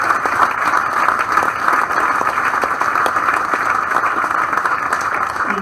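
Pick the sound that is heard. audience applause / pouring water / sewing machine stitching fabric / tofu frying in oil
audience applause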